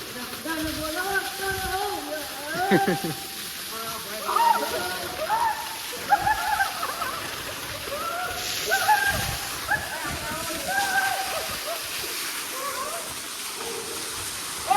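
Water from a motor pump pouring into a tank at a village, a steady splashing rush heard under lively overlapping voices throughout.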